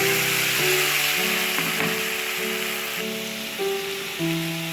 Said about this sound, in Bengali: এবার আমি এই ঘিয়ে যে বেটে রাখা মশলাটা দিয়ে দিই।